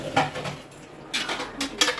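Washed melamine plates being set down and stacked in a home kitchen, a few sharp clattering knocks in quick clusters, close and fairly loud with no talking.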